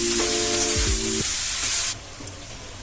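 Soft vegetables hitting hot oil in a pan for vegetable khichuri, a loud sizzling hiss that cuts off after about two seconds, with a brief low tonal hum near the start.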